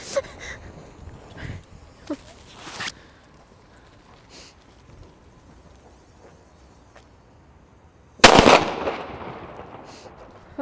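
Super Böller 2 firecrackers with 8-gram charges go off outdoors in daylight on New Year's Eve: a few sharp cracking bangs early on, faint scattered pops in between, then one loud, close blast followed by a rumbling tail.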